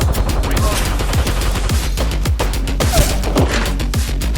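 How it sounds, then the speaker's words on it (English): Heavy video game gunfire, a sustained fusillade of rapid, loud overlapping shots and thumping impacts continuing without pause. "The enemies are shooting at me."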